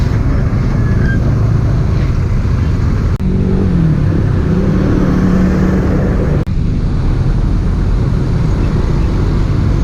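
Cars idle and creep in a traffic jam at a red light at a busy street junction, a steady dense rumble of engines close by with some revving, continuous throughout.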